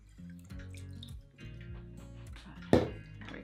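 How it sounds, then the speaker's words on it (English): Ginger bug ferment liquid pouring from a container, a gurgling, dripping trickle with a short splash near the end, close and fairly quiet. "we're gonna pour off some of this ginger bug"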